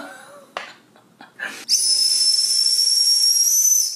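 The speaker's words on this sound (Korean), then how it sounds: "호루라기 캔디. 위급할 때 불어주세요." Whistle candy blown hard gives a loud, steady, high-pitched whistle lasting over two seconds, close up, after a few soft breaths and mouth noises.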